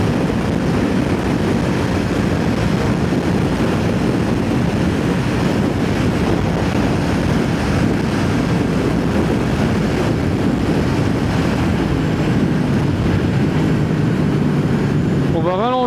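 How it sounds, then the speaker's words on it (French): Steady, loud wind buffeting the microphone while riding a motorcycle, a continuous broadband roar with no pauses, mixed with low engine and road rumble throughout. "Il y a un peu de vent aujourd'hui."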